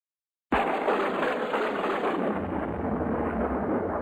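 Thunder after a lightning flash breaks in abruptly and rolls on as a loud, deep, sustained rumble with no pause.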